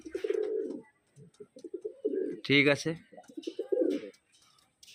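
Young pigeons coo in low, throaty bursts at close range, several rounds with a brief flutter of wings in the middle, while someone speaks briefly among them.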